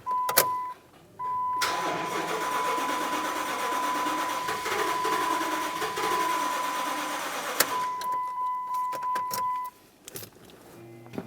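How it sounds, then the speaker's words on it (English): A 2005-2010 Dodge Dakota engine with a fuel pump fault cranks steadily for several seconds without catching, the starter whirring loud and close in two long bursts with a short pause between. "Typically what you'll find is that it'll crank and not start."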